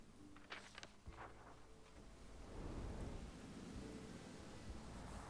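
Thunder rolls through a stormy night in the game South of Midnight, a low rumble early on giving way to heavy, steady rain that swells louder in the second half; no voices.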